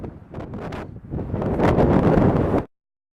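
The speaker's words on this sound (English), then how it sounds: "You can hear the wind in the background." Strong wind blowing over a sweet corn field, loud gusting buffeting and rustle against the microphone, rising into a heavy roar before cutting off abruptly.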